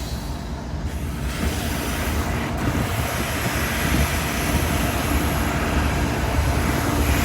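A rumbling ex-Santa Fe diesel locomotive engine idles and throbs steadily, a loud, continuous low drone with rough exhaust texture that swells slightly toward the end, no voices over it.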